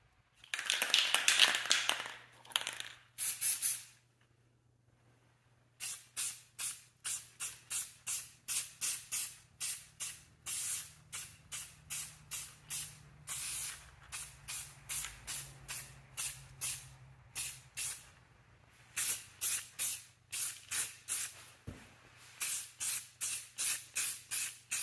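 Chrome spray paint hisses from a can onto wheel center caps in a warm garage: a long opening burst, then a rapid series of short, close, rhythmic spray pulses with brief pauses and no speech.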